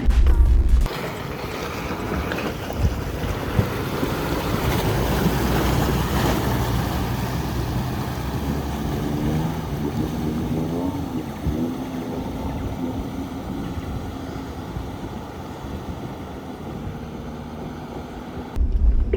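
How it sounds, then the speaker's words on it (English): A lifted Subaru Forester crosses a river off road, with a continuous churning rush of water and engine rumble that runs steadily for nearly twenty seconds, louder bumps at the start and end. "we've encountered a bit of a river crossing"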